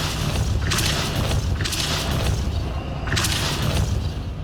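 Spell-driven spinning mechanism raising a stone platform in Hogwarts Legacy, heard as three loud booming bursts with grinding rumble over a steady low-pitched game ambience.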